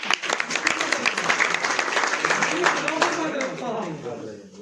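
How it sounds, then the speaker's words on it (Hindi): A crowd at an insurance agents' seminar claps steadily and densely for several seconds, the applause fading slightly toward the end with some voices underneath. "बात अच्छी लगी तो ताली बजाई दीजिए"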